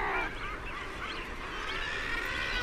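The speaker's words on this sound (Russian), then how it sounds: "Но птицы отгоняют лису воинственными криками, а мощными клювами отталкивают ее назад." Common guillemots at an Arctic coastal cliff colony fend off a fox with loud, harsh massed cries, a dense overlapping clamor of many birds continuing throughout with no let-up.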